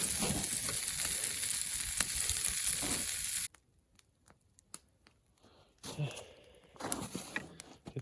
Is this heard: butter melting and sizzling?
yes